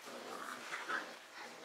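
Puppies whimper and yap in a short, close burst of small, high cries over a constant background hiss.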